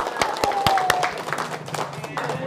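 Handclapping from a group of elderly residents at a care home, a few sharp claps at first and then a looser patter, with voices talking over it throughout.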